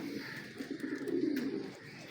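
Pigeons or doves coo softly in a breeding aviary, a brief, faint murmur of low calls heard alone.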